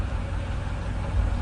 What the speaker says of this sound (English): this traffic really is appalling